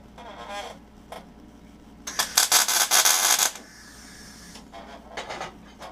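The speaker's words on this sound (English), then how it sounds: "Now we can tack our project together and then we'll weld it up." Tack welding a horseshoe candle holder: a few short crackling arc bursts, then a louder, sustained buzzing weld of about a second and a half, followed by quieter brief sputters.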